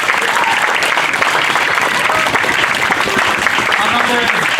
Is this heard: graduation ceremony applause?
yes